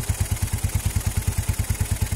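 A Honda Tiger motorcycle engine idles close by with a steady, even run of low thumping pulses over a bright mechanical clatter.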